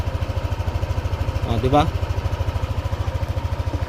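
A Yamaha NMAX scooter engine with 32,000 kilometers on it idles nearby in a steady low, fast pulsing putter, while a voice briefly speaks over it midway.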